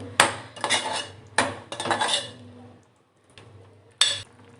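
A spoon mixes a dry prawn and potato curry in a metal pot, giving several close, loud bursts of scraping and clinking with brief pauses and one sharp knock near the end.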